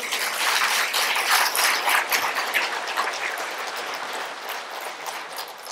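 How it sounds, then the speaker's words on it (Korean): A Catholic congregation at a Charismatic Renewal retreat in a Korean parish church breaks into dense, sustained applause, steady and loud throughout before easing slightly toward the end. "박수 한번 칠까요?"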